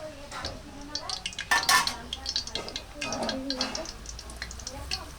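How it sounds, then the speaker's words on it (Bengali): Potato chips dropped into hot frying oil on a medium flame, giving soft sizzling with clinks of a utensil against the pan while a person talks over it. "এবার আমরা দিয়ে দেবো চিপসগুলো"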